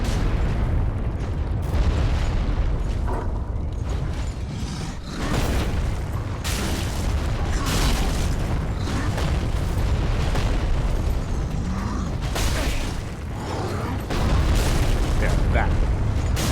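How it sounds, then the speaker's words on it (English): In Dark Souls 3, an enemy swings a huge rock-on-a-stick hammer that explodes as it comes back up. Heavy booms land amid dense combat noise, with a voice talking in places. "Does big strikes like that, and the hammer comes back up and it explodes."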